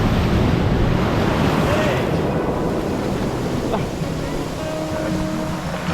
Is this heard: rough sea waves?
yes